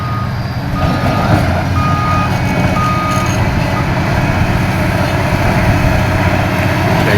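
A 40-ton articulated truck backs up beside a backhoe at a work site, its reversing alarm beeping in a steady repeating rhythm over a loud, rumbling diesel engine, close and continuous.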